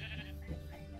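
Sheep bleating in Minecraft, one wavering blocky game bleat held steady and fairly close, with no other sounds around it.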